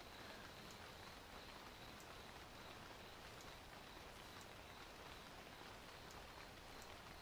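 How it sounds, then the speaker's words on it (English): Steady rain falls in the video game Viva Piñata: Pocket Paradise, continuously, a dense even patter with scattered droplet ticks, no voices. "Oh, it's raining."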